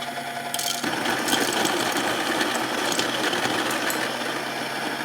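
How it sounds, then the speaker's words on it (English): A Baratza Encore burr coffee grinder grinds beans with a steady, loud mechanical whir that starts abruptly and holds even throughout, close by with no talking. "I'll give you a little demo. So, just gonna grind some beans."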